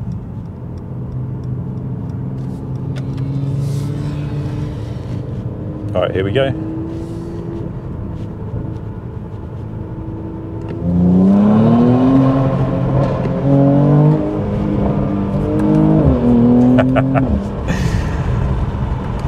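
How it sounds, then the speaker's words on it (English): Car exhaust revving hard with rising and falling engine pitch through gear changes, crackling bangs and pops on the overrun, loud and close, with someone talking briefly near the start. "I just love this exhaust."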